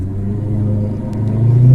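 A Maserati GranTurismo S engine rumbles loud and close, its deep low tone steadily building as revs climb toward the end.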